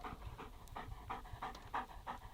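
A tired dog, worn out from chasing a ball at a hunting camp, pants in quick rhythmic huffs, about eight breaths in a short burst, close and fairly soft, with no talk.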